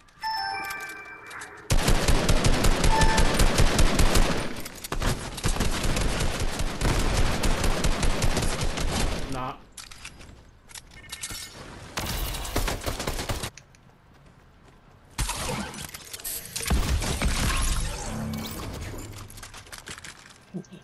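Dense, rapid automatic gunfire in the Fortnite video game, long loud sustained bursts separated by brief quieter gaps with scattered single shots.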